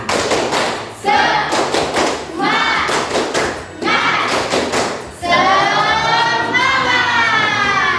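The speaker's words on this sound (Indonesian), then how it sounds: "Tepuk semangat." A school class does a rhythmic spirit clap, groups of loud, close hand claps and thumps in patterned bursts, with children chanting together between and over the claps.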